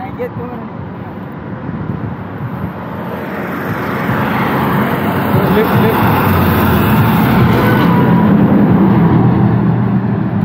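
Tractor driving past on a rural road, a broad engine rumble and roar that swells louder partway through and stays strong, with wind noise and no talking.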